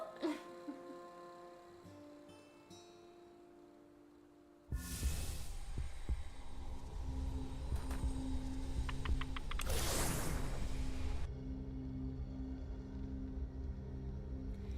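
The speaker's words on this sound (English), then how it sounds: "And the heartbeat sounds kind of weird" Low-health heartbeat warning from the video game Wytchwood, a steady throbbing pulse that loops on under a dense, loud game soundtrack with no talk over it.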